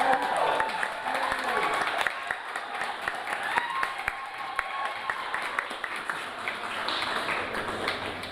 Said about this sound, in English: So a round of applause to Joe Banks.